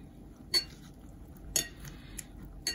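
A utensil stirs chicken salad in a bowl, giving a few sharp clinks against the dish at roughly one-second intervals over quiet background.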